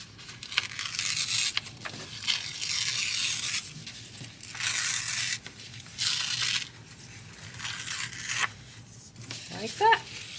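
Sublimation paper is pulled and rotated by hand, giving several loud bursts of rustling and crinkling separated by quieter gaps, with a brief scrape near the end.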